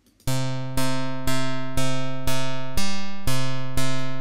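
Drambo MIDI step sequencer pattern playing a synth tone in eight evenly spaced plucked notes that each decay, a steady pulsing rhythm, clean and close with no voices.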